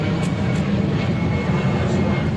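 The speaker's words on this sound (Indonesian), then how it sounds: "suara pesawat" An airplane passes overhead as a steady, loud, broadband roar with a heavy low rumble that fills the whole moment.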